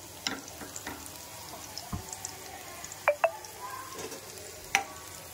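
Garlic frying in a pan as the tempering for gongura dal, a quiet sizzle with scattered small pops and clinks of stirring, close and soft with no voices.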